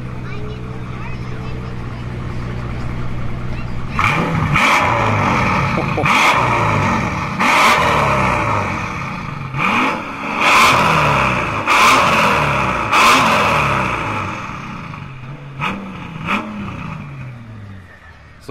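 A straight-piped twin-turbo V12 car revs hard, its loud, close engine climbing repeatedly in sharp bursts and dropping back between them, while people talk over the engine noise.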